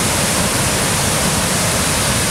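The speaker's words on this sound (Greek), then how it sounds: "Τα νερά αρχίζουν και κατεβαίνουν ακόμη πιο πολύ ορμητικά." Loud, steady roar of rushing river water at Garefi in Almopia, a dense broadband torrent pouring down without a break, close by and filling the whole scene.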